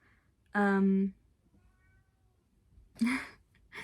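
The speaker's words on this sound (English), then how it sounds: "Sorry if you heard my cat." A house cat meows twice indoors, a long drawn-out call followed by a shorter one a couple of seconds later, close and fairly loud during a knitting pattern talk.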